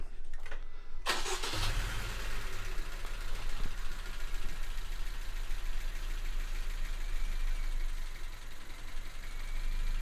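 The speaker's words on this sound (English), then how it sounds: "we'll put that in and see if the engine smooths out" A car engine, a 2016 Honda Civic 1.8 VTEC with a cylinder 3 misfire, starts with a brief crank and settles into a steady idle with a slightly uneven, rough rumble, heard close up without talk.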